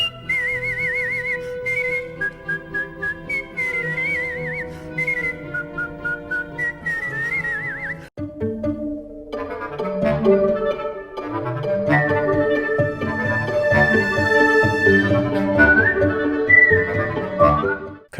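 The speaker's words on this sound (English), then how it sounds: "Yes, you heard me correctly, whistlers, as in people who whistle." Several people whistle melodic lines over bass clarinet and celesta in a gentle soundtrack piece about sakura mochi, with the whistled tune clear and upfront throughout and no talk.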